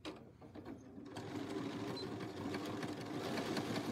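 A sewing machine runs steadily while zigzag stitching over a seam on a zippered box bag, a close, continuous mechanical whir heard alone after a brief quiet start.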